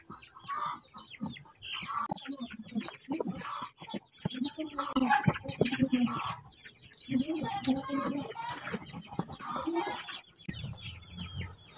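Chickens and a rooster kept on a heritage chicken farm cluck and chatter continuously at close range, with busy overlapping calls throughout. Someone speaks intermittently over the flock.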